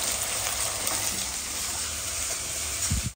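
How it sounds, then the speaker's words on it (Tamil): Onion fries in a pan with ginger garlic paste, curry leaves and green chilli for a Chettinad prawn gravy. The sizzle is loud and constant, with a few scrapes of stirring and no talk. "சேர்த்துட்டு நல்லா வதக்குவோம்."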